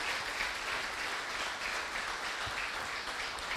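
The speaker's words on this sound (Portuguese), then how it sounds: "Palmas para ele, né?" An audience applauds steadily at the close of a Spiritist talk, dense clapping sustained throughout without any voices over it.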